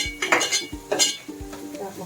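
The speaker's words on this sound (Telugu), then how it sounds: "అన్నీ 1 నిమిషం కలుపుకోవాలి." A spoon stirs chilli powder and curry leaves with onions in a pan for Telugu fish curry, giving several close scraping, clinking strokes against the metal at a steady pace, with no talk.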